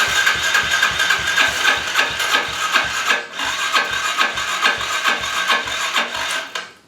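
A Yamaha TTR 110 dirt bike engine is cranked but fails to start, giving a steady rasping, chugging churn with rapid regular pulses that runs for several seconds and then cuts off.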